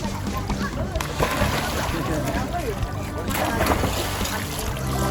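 Swimmers jumping into the water during training for a swimming competition at Kamandara, with continuous sloshing and splashing close by and voices talking over the water.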